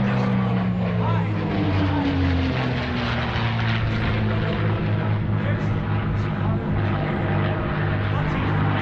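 A P-51 Mustang warbird propeller plane flies past at the Cherry Point airshow, its loud, steady engine drone swelling and shifting in pitch for the whole stretch while a voice talks over it.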